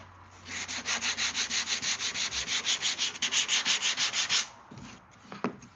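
Rapid back-and-forth hand sanding scours the inside burrs of wooden egg holders, a steady run of about two dozen close, even scratchy strokes that stops abruptly, followed by a few light knocks.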